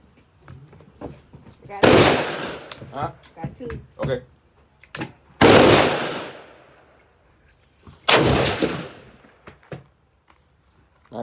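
Gunshots at an outdoor shooting range: three loud, sharp blasts spaced a few seconds apart, each with a long ringing decay, separated by quieter clicks and handling noises.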